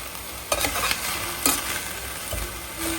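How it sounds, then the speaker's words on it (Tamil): Garden-picked greens are stirred and sautéed in a hot pan, a steady sizzle broken by a few sharp scraping strokes of the spoon, close up with no talking. "வதக்குனாலே வெந்துடும், சூடு ஆகுது இல்லை"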